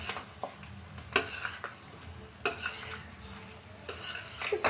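Dry cumin, fennel powder and ginger powder stirred in a pan for mutton rogan josh, with a low sizzle under several sharp clanks and scrapes of a spoon against metal, close and intermittent.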